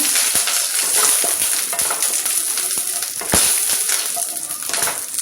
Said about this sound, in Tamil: அப்புறம் கருவேப்பிலை போட்டுருங்க. அப்புறம் கடலைப்பருப்பு போட்டுருங்க. போட்டு நல்லா மிக்ஸ் பண்ணுங்க.